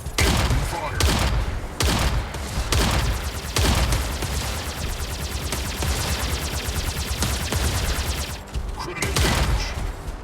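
Gunfire in a shooter video game plays as loud, dense bursts of automatic fire. Near-continuous rattling volleys are broken by brief gaps, and the firing is close and forceful throughout.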